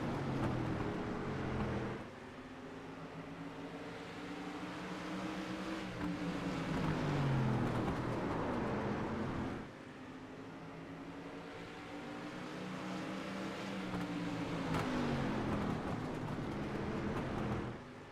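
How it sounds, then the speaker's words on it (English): Street stock race cars roar down the back straightaway at a Southern National Motorsports short-track race, a loud, sustained engine drone that rises and falls in pitch as the cars pass, with no talk over it. "Those two drag race down the back straightaway"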